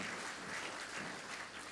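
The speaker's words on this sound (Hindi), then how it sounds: "आप तो ताली बजाओ" An audience claps steadily at a spiritual talk, a dense wash of hand claps that holds at an even, fairly loud level throughout without any voices.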